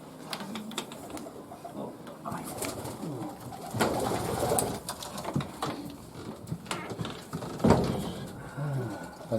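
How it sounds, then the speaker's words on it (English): Pigeons coo inside a small loft in Shrewsbury, soft low cooing and rustling close by, with scattered clicks and knocks and occasional voices mixed in. "There's various pigeons in here."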